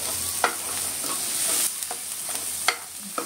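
Onions fry golden brown in a pan, a bright continuous sizzle with a few scraping stirs of a spoon cutting through at intervals, close and alone.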